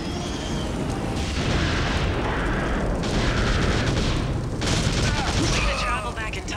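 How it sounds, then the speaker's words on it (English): Explosions and gunfire from the shooter video game TimeSplitters: Future Perfect form a dense, continuous roar of booms and rapid fire, with busy game sound throughout. "Explosion can only mean one thing!"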